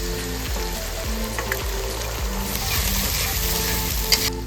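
Garlic paste and ginger paste frying with deep-browned onions for Bengali mutton kosha, a steady, close sizzle with occasional scraping and brief louder crackles, some music underneath and no talk.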